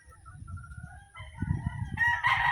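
A Pure Golden Boy gamefowl rooster crows on a game farm, one rising cock-a-doodle-doo near the end over low ambient rumble and faint clucking, with no talk.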